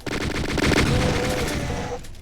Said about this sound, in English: Try to get these guys to shoot each other.